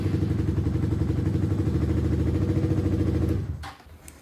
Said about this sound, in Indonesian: cek starter motor apakah bisa nyala sekali tekan atau seandainya susah nyala